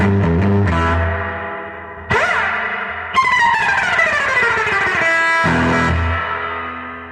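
An electric guitar runs through a Fender Pano Verb amp set for a bright, trebly reverb, playing loud plucked notes, a sliding bend and ringing chords with a shimmering echoing tail.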